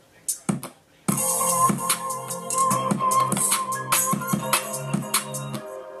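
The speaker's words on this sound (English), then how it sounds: "So I added a kick, a snare, and some drum sounds." A programmed drum beat with punchy kick, snare hits and hi-hats, starting after a brief intro, steady and loud with a synth layer underneath.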